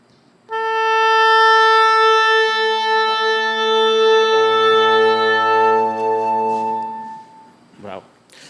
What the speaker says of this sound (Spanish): el oboe toca una nota,